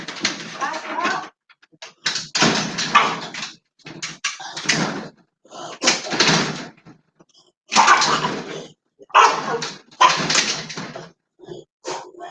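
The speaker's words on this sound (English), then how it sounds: "When someone knocks on my door, he goes nuts on the door, like trying to eat them alive." A small, vicious-sounding dog barks repeatedly in loud, close bursts at a house door as someone knocks, mixed with people talking.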